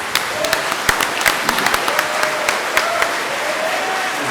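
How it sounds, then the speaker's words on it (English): Applause from a modest audience at a motocross museum evening event, made of individually distinct claps with sharp, uneven peaks over a softer wash, steady for several seconds. "one more round of applause for Mr. Oska"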